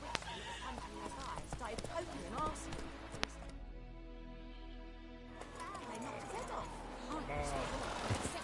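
Roach the horse trotting in The Witcher 3, hooves clip-clopping steadily beneath game ambience and a man's speech, with a brief quieter stretch in the middle.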